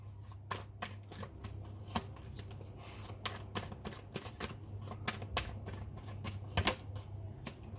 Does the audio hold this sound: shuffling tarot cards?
yes